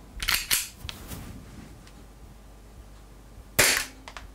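WE GForce G19 airsoft pistol firing green gas with 0.2 g BBs at a chronograph: two quick sharp cracks close together, a lighter click, a quiet gap, then another loud crack followed by small mechanical clicks.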